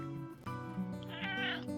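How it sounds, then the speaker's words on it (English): A pet cat meows up close, a drawn-out, wavering cry that bends in pitch, loud and alone. "Why are you meowing?"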